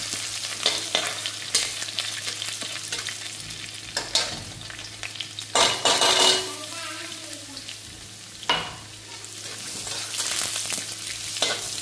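Cumin, fenugreek seeds and garlic fry in a home kitchen pan for Indian kadhi, giving a steady crackling sizzle with stirring scrapes and brief bursts of louder spitting, and no talking over it.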